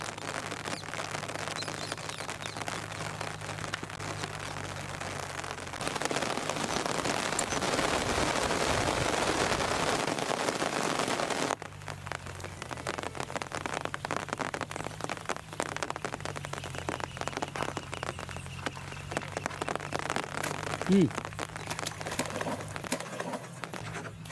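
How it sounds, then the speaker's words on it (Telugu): Rain falls steadily, a dense patter on surfaces that grows heavier for a stretch and then eases back to a lighter, continuous drizzle. "ఓ వర్షం వర్షం అమ్మ వర్షం కరెక్ట్ టైంకి వస్తుంది"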